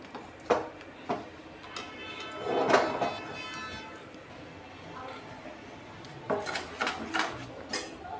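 Peanut chutney being stirred in a bowl, a few sharp clinks and scrapes of a spoon against the dish at close range, with a longer scraping swirl in the middle and more tapping near the end.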